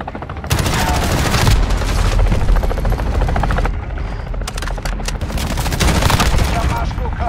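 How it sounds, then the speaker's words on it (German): Helicopter gunner in Call of Duty: Modern Warfare fires rapid, loud bursts of machine-gun fire almost without pause over a steady rotor drone, with short breaks between volleys. "Verbündeter Helikopterschütze übernimmt Überwachung"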